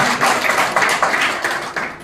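Indoor audience at a teachers' literary gathering clapping for colleagues, a short burst of close, loud, rhythmic applause that fades slightly toward the end.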